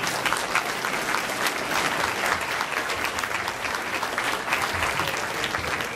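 An audience at an anniversary party applauds loudly and without a break, the dense clapping holding at an even level for the whole stretch with no voices on top.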